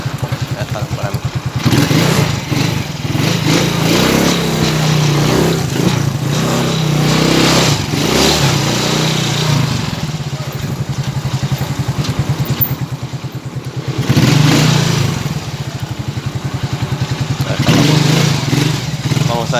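An RX motorcycle engine drones steadily while being ridden toward Ramos Mejía, close and loud throughout, with slight swells and dips in revs and rough wind-buffeted noise over the top.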